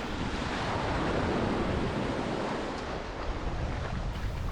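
Ocean surf at Puerto Morelos beach, a steady broadband wash of waves with wind rushing against the microphone, continuous and fairly loud, with no voices.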